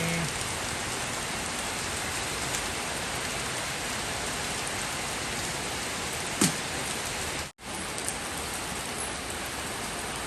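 Heavy rain pours in a dense, even hiss during a storm, steady and close throughout, with one faint knock and a momentary dropout partway through.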